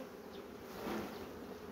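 Steady honeybee buzzing at an apiary, droning continuously at a low level with a slight swell partway through.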